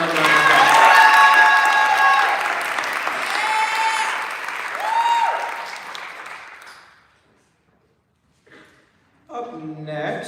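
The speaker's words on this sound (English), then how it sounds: "Can we give him another round of applause?" Audience applause and cheering from a college Broadway revue crowd, loud and sustained for about seven seconds before fading out, then a brief spoken voice begins near the end.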